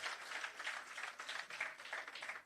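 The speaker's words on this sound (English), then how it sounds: "Give them a hearty round of applause, ladies and gentlemen." A small audience at a roofing programme handover ceremony claps for card recipients, a quiet, steady patter of hands heard from a distance with no voices over it.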